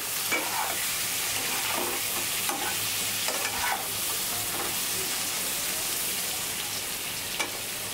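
Pointed gourd and eggplant pieces fry in a pan with salt and turmeric, giving a steady close sizzle with soft crackles and occasional stirring scrapes, continuous and without speech.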